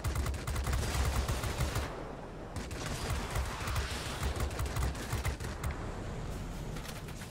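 Rapid cannon fire from a Russian Lavochkin La-15 jet fighter in the World of Warplanes game rattles in dense bursts over a steady engine roar. It is fairly faint and continuous, with a short lull near the middle.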